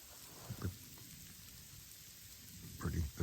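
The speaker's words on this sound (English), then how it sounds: "The pellet snow is about to change over to finer snow, I think" Pellet snow falls in a steady, faint hiss outdoors during a storm. A couple of louder low thumps or rustles come near the start and the end.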